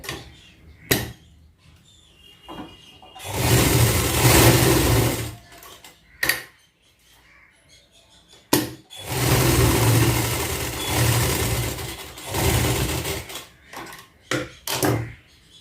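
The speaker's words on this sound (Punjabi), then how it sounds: "ਇੱਥੇ ਹੁਣ ਅਸੀਂ ਸਲਾਈ ਲਗਾਵਾਂਗੇ ਔਰ ਇਹਨੂੰ ਪੱਕੀ ਕਰ ਲਾਂਗੇ" A sewing machine stitches a rib band onto a shirt neckline in two sustained whirring runs, each a few seconds long, framed by clicks and handling noises in between, close and fairly loud.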